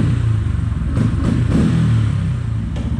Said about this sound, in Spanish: vamos a darle un acelerón aquí